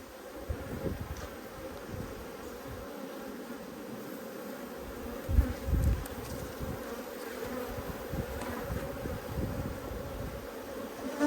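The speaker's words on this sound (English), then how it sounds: "I feel like I can hear the queen piping." A honeybee hive with drone brood, heard at close range: a dense, steady buzz of many bees hums throughout, with a louder swell of buzzing around the middle and no clearly separate piping tones.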